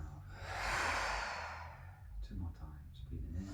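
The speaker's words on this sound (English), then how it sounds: "breathing in through the nose" A person draws a long breath in through the nose and lets it out through the mouth during a guided meditation, a slow audible sigh near the microphone followed by softer breathing.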